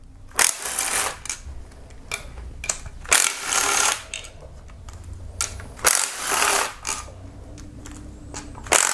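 A ratchet clicks in short bursts, loosening 12mm and 10mm camshaft cap bolts on a Kia Optima engine during camshaft removal, close and fairly quiet, with pauses between runs.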